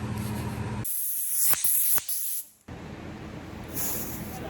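Air hisses loudly and close during a tire pressure check on a wagon at a racetrack, with short sharp bursts as the gauge or chuck meets the valve, set against steady background noise.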